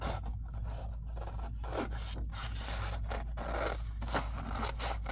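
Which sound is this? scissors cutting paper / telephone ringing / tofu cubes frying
scissors cutting paper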